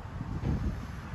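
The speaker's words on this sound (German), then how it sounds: "Heute Morgen ist viel Sonne, aber jetzt windet es." Low, rumbling wind at a marina in Fiji buffets the microphone in brief gusts, a steady blustery roar with no voices.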